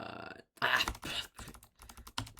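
Keys clatter on a computer keyboard in quick irregular bursts separated by short pauses, close and fairly quiet, with no talking.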